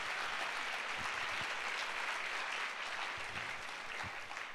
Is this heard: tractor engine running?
no